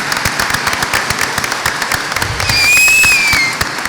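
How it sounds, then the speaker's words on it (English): An audience at an event claps together, a dense, steady patter of many hands close by that swells briefly near the end, while a few whistles cut through. "Can you all help me give her a great round of applause?"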